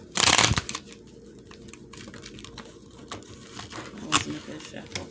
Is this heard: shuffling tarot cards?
yes